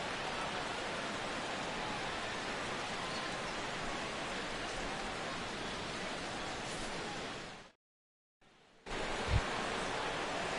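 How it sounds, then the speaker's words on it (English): Rain falling over a baseball game in MLB The Show 16, a steady, even wash of hissing rainfall that drops out completely for about a second before returning, no voices. "as the rain continues to fall here"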